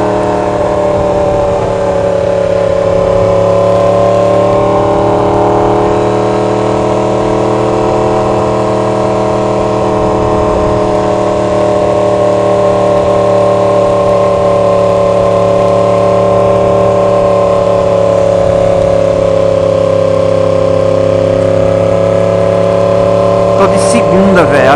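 A motorcycle engine drones at a steady speed while riding, a constant loud hum with little change in pitch throughout.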